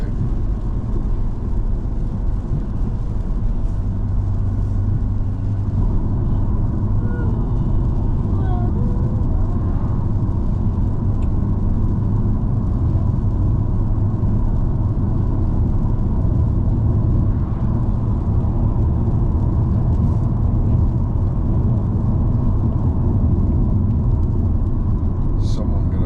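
Car cruising along a winding, bendy road in Scotland, a steady low engine and road rumble running continuously beneath ongoing conversation inside the cabin.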